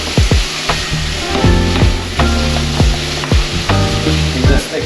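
Garlic stirred in a hot frying pan for a mutton dish: a steady loud sizzle with repeated scraping strokes of the utensil against the pan, close and continuous with no talk.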